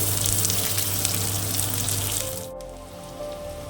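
Chopped onion with a dried red chili and panch phoron hits hot oil in a pan for a Bengali prawn and taro-stem dish, a loud, close, hissing sizzle that fades slightly as it settles.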